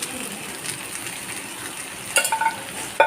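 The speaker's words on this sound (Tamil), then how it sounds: "அந்த சுறுசுறுன்னு கேட்குற சத்தம்லாம் அடங்கினதுக்கப்புறம்" Potatoes frying in a pan with chili powder, with a low steady sizzle and a short burst of stirring scrapes near the end, fairly close, no talking.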